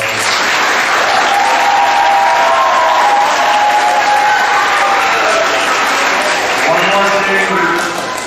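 A large crowd applauds continuously, a loud, dense wash of clapping with some cheering mixed in, fading slightly at the end.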